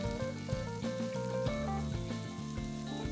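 Ground meat and reserved onion sizzle steadily in a hot pan as they are combined for Argentine empanada filling, a continuous frying hiss under a prominent backing melody with no talking.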